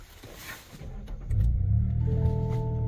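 A Lexus GX550 cranks and fires up, a brief starter churn that gives way to a deep, rumbling idle settling into a steady hum, heard close with no one speaking.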